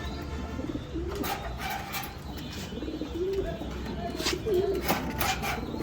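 Large racer pigeons cooing nearby, several soft rolling coos spaced across the moment over a low background hum.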